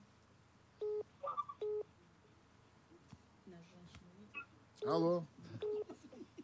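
DTMF keypad tones from a telephone on a live call-in broadcast, several short steady beeps in separate bursts with a man answering between them.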